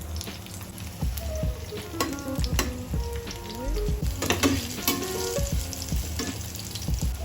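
Beef steak fries in very hot oil in a pan, giving a close, continuous sizzle with crackling pops and occasional utensil scrapes and clinks, with no voices.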